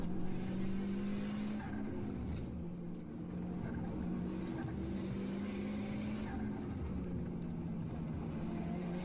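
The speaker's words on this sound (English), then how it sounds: "You can hear the turbo on the Evo." A turbocharged Mitsubishi Evo engine drones at a distance during street racing in Malaysia, with a steady tone that rises and falls as it passes, moderately faint, with a high whistling turbo whine above it.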